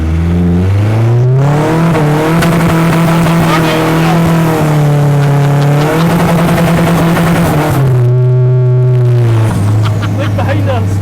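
A homemade Mazda RX-7 with a Honda engine, 4WD BMW gearbox and welded diff revs hard with its exhaust opened up, a loud, close engine note climbing and dropping through the gears without pause.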